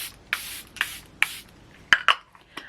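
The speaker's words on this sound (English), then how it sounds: "I'll be using the Charlotte Tilbury Airbrush Flawless Setting Spray" Charlotte Tilbury Airbrush Flawless Setting Spray is misted onto a face in several quick hissing pumps, close to the listener and with no talk; three longer bursts are followed by shorter, sharper spritzes.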